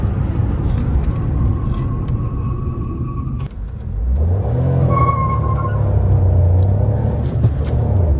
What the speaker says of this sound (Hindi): सीएनजी में व्हील स्पिन मार रही है गाड़ी